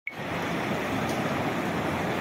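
Sea waves at Tarkarli beach make a continuous broad wash that sounds close and full, with no voices over it.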